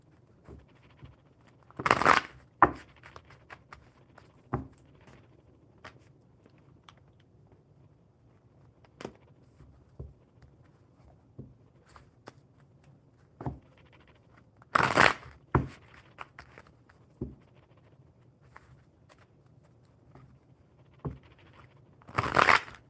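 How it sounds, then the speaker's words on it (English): A tarot card deck is shuffled in three loud riffling bursts spaced well apart, with softer card taps and handling clicks between them, close up and with no talk. "I will shuffle the tarot deck for you."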